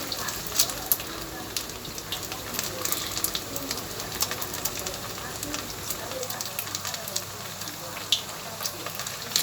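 Wild snakeskin gourami fish frying in hot oil, producing a steady dense sizzle sprinkled with sharp crackles and pops throughout, with faint voices in the background.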